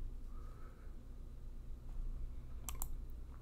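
A computer mouse clicks a couple of times in quick succession near the end, crisp and close, over a steady low electrical hum.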